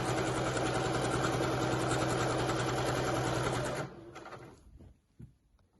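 A sewing machine runs steadily, stitching rows of gathering stitches along the top edge of a dress skirt. The whirring hum is close and continuous for about four seconds, then cuts off, followed by a few faint handling clicks.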